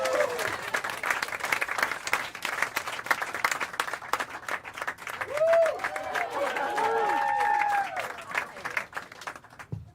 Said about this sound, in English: Start clap right now for Greg Kennedy, everybody.